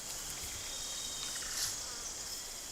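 Bees swarm around a tree hive stunned with smoke from burning green leaves and dry wood, a steady high insect buzz and drone filling the air without pause, fairly faint and continuous.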